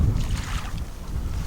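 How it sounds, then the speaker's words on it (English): Strong gusty wind at a winter lake bank while fishing, with rough low buffeting rumble against the microphone and steady wind noise throughout, no voices. "we cannot seem to get away from the wind."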